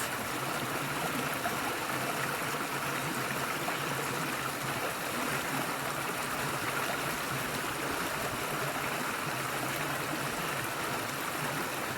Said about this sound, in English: So I fill my water bag up like this.